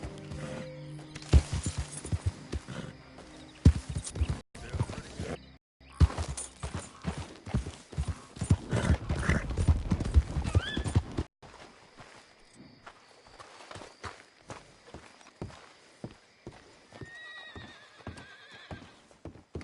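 A horse in the video game Red Dead Redemption 2 gives several loud whinnies over steady clip-clopping hooves, then trots on with a lighter, regular hoofbeat rhythm.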